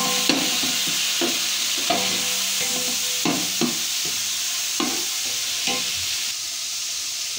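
Browned onions and chopped tomatoes frying in a tadka for chicken biryani, with a continuous sizzle broken by repeated scraping stirs of a spoon in the pan.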